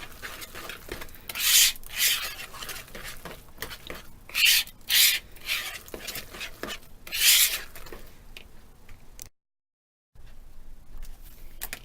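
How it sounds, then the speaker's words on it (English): Low-carb cake batter mixed by hand in a bowl, a rough rhythmic scraping and rubbing that swells in bursts, then stops briefly. "Continue mixing."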